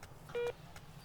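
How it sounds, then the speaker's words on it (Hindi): A telephone being dialed in a dubbed Hindi action film scene: one brief electronic tone rises out of a quiet background and stops after a fraction of a second. "मैं एक फोन लगाता हूँ"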